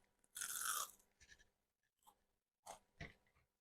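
A crispy chaffle is bitten and chewed close to the microphone: one loud crunching bite followed by several quieter, spaced crunches.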